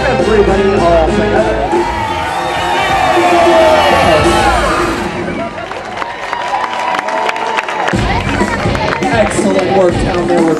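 A large crowd screams and cheers at an outdoor Disney California Adventure block party, a dense, loud, continuous roar that swells mid-way, with whoops and voices mixed throughout.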